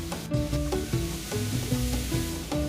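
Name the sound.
vegetables sizzling while being sautéed in a pan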